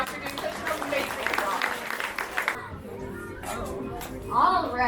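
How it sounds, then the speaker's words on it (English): An audience at an animal show at Grant's Farm applauds in a brief burst of clapping, followed by someone talking over light crowd and children's noise. "Let's go ahead and give her a round of applause for doing such an amazing"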